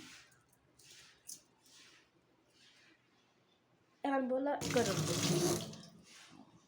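Water pours and splashes in a short loud burst as washed rice is strained while making Bangladeshi pulao, following a quiet stretch with someone speaking softly.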